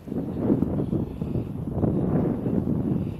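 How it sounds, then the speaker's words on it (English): Steady low rumbling wind buffets the microphone in open ground at Connah's Quay, North Wales, swelling and easing slightly but never stopping, with no voices. "Getting awfully windy now."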